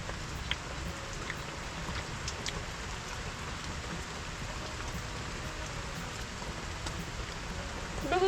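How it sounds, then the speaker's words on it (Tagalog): Sudden rain falls steadily on a rural farm, a dense even hiss of drops on surfaces with scattered sharper patters, continuous and fairly soft throughout. "Biglang ulan eh."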